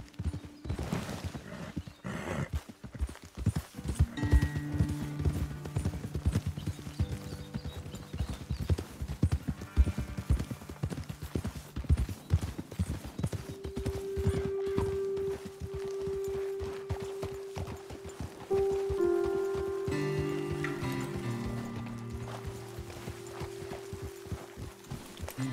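Horse hooves clip-clop steadily on a trail ride as the horses climb toward a hilltop vantage point, with a whinny and scattered footsteps, close and fairly loud, while music plays underneath.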